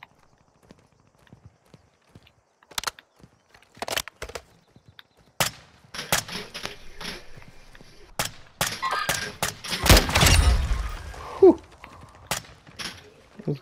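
Gunfire in the Call of Duty DMZ video game comes as scattered sharp shots, then a thicker burst of firing with a low rumble near the end, set against quiet gaps and faint movement sounds.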